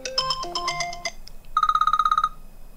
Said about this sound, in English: you can go through all of that list and then try to play some other ringtone.